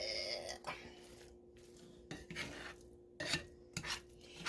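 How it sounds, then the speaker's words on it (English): Stirring cheese into bacon cheeseburger dip in a skillet: a spoon scraping and rasping against the pan in short, irregular strokes, close and fairly quiet, with brief pauses between them. "Put about 3/4 of the cheese in there. You're going to stir it up."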